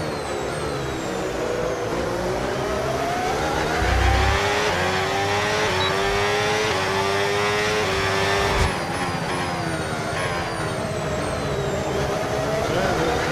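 Open-wheel racing car engines in the F1 26 video game at the Hungaroring, driving smaller cars, whine steadily and close up, pitch sweeping up and down through gear changes and corners with no break.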